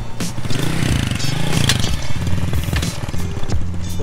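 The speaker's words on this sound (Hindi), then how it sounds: "ये देखो अभी बाइक पे आया है" Motorbike arriving with a loud, steady, chugging engine rumble close by, the thrum continuous throughout with clattering undertones, no talking.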